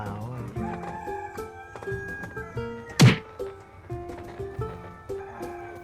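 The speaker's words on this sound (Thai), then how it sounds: "ไก่เหรอ" Chickens and a rooster at a small animal enclosure on a coffee farm in Nakhon Phanom, Thailand, crowing and clucking in drawn-out calls, with a sharp thump partway through.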